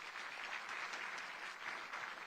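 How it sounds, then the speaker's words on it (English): An indoor audience at an Income Tax Department commemoration event in Puducherry claps steadily as a dense, even wash of applause, fairly faint and distant. "Let's give them a big round of applause."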